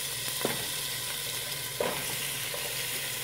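Mushrooms and onions sizzle steadily in a frying pan, a constant broadband hiss with a couple of brief stirring clatters, close and moderately loud, no voices.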